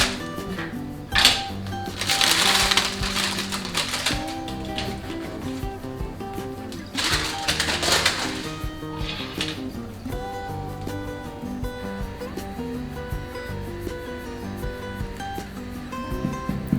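A baked no-knead loaf of mixed-seed artisan bread is tapped for a hollow sound, giving soft repeated knocks under a bed of music, with bursts of brighter noise partway through.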